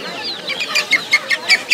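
A silkie chicken at Galiff Street pet market in Kolkata clucks in a quick series of about six short, rhythmic, close clucks that grow slightly louder toward the end.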